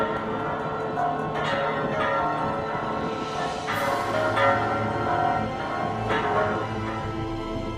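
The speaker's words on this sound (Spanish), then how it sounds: "las campanadas de la iglesia volvieron a ser escuchadas en México" Church bells in Mexico ring repeatedly in an overlapping, resonant peal, struck strokes sounding every second or so over a lingering hum.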